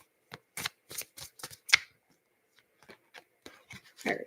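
Cards being shuffled and a crystal card drawn from a deck, a quick run of crisp riffling flicks followed by scattered softer card slides and taps, close and clear with no voices.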